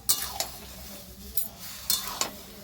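Chicken pieces being stirred in a handi pot while cooking Badami Murg Handi, giving a few separate scraping and clinking stirs with a light sizzle underneath, close and fairly quiet.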